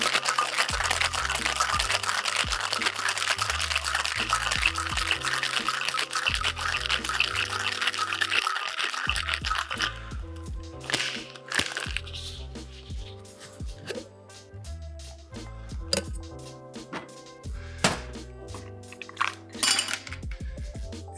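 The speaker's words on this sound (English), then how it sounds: "Shake for another 12, 15 seconds." Ice rattles hard inside a cocktail shaker being shaken for an Oliveto cocktail: a dense, loud, rhythmic clatter for about ten seconds, then scattered clinks and knocks of ice and metal.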